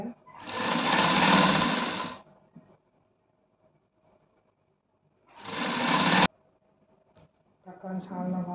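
A sewing machine stitches a simple shirt in two bursts of rapid whirring, each around one to two seconds, separated by quiet pauses, with a faint start of a third run at the end.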